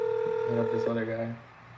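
Touch-tone phone keys beep through a rapid series of dialing tones, one after another, then fade, with a steady tone underneath.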